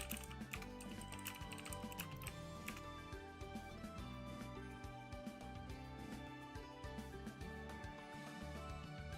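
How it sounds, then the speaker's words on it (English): Rapid, continuous clicking of fingers typing on a computer keyboard, busy and uneven in rhythm, quiet and close, with no talking. "Where are you typing this?"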